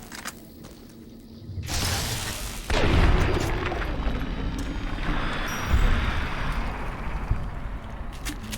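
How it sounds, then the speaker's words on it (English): A flashbang goes off in the video game Fallout: New Vegas, a sudden loud boom followed by a long roaring, windy rumble that swells again briefly before trailing off, with no talking. "Flashbang works well."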